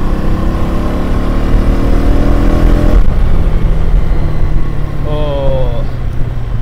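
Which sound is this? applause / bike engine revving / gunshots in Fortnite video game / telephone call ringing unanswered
bike engine revving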